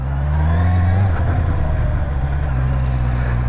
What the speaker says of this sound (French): écoute ce 4 cylindres qui chante